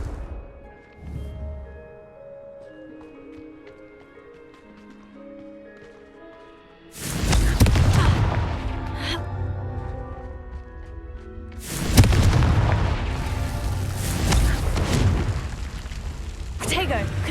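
Booming fire-spell blasts of Confringo in Hogwarts Legacy, two loud, heavy explosions with rumbling tails, after a quieter stretch of musical game ambience.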